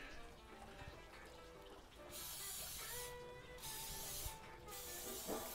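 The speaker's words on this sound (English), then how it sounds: "I'm gonna give it another spray." A spray bottle misting a smoked Cajun turkey on the smoker, two bursts of bright hissing spray separated by a short pause, with quiet background noise between them.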